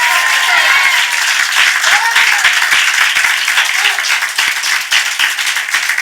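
A church congregation at a Sunday morning worship service claps together in a sustained burst of applause, loud and continuous, with scattered voices calling out beneath it.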